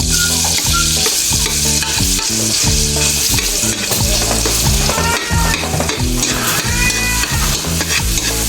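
Garlic fries in a pan and is stirred, giving a loud, steady sizzle with repeated scraping of the utensil close by.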